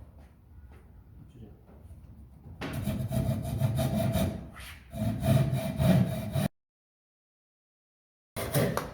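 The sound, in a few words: hand saw cutting wood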